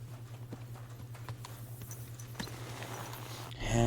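Horse hooves clip-clopping at a steady walking rhythm in Kingdom Come Deliverance 2, faint evenly spaced thuds over a low steady hum, with a louder rustling rise at the very end.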